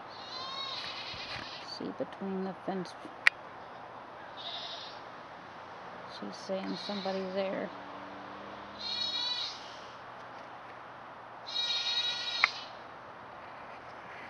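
Baby goats in a kid barn on a homestead bleat in loud, repeated bursts from a short distance, calling out between stretches of people talking.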